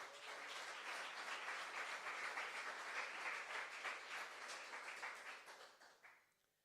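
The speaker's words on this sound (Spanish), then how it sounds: "Bríndele un aplauso al Señor por eso" A church congregation applauds during a sermon, sustained clapping that is soft and somewhat distant, rising and then trailing off over several seconds.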